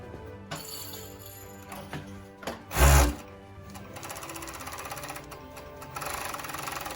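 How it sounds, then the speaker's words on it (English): A Fusion 757 five-thread overlock machine stitches fireproof fabric, its motor running as a steady rapid mechanical whir with a brief louder thump partway through, close and continuous with no voices. "I'm going to sew it"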